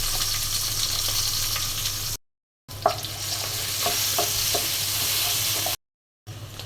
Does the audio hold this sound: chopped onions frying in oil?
yes